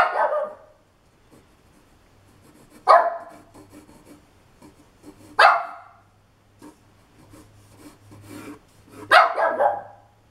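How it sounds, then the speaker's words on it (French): A dog barks in four short separate bursts spaced a few seconds apart, loud and close, with quiet gaps between them. "Bon, le chien n'est pas content."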